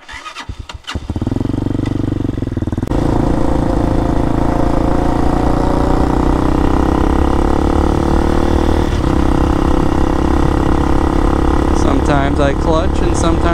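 Motorcycle engine firing up with a few sharp clicks, then a loud steady running drone as it revs and shifts gears through the clip, with a voice speaking faintly near the end.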